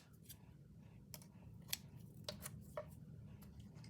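Scissors trim excess material from a handmade hard journal cover during gluing, giving a few short, faint snips and clicks spaced irregularly over a low steady background hum.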